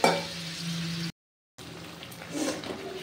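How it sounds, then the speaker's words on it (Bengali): A potato and soybean curry sizzles steadily in the pan, then after a brief cut a little water goes in and a louder, rougher hiss and bubbling rise toward the end. "আর একটু সামান্য জল দিয়ে দেব। জল দিয়ে একটু ফুটে যাক।"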